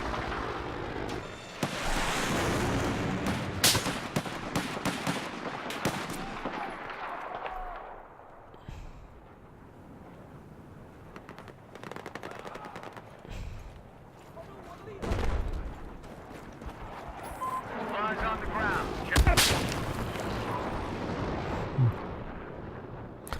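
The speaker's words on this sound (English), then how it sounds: "We've still got snipers though in the game, and they keep shooting me." Battlefield 4 gunfire and artillery in a 64-player match with snipers, a steady barrage of shots and blasts swelling and easing throughout, with a louder burst near the end, mixed under game audio and voices.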